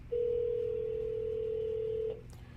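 Payphone tone: a single steady pitched beep held for about two seconds, clear and close, then cut off, followed by a faint brief blip.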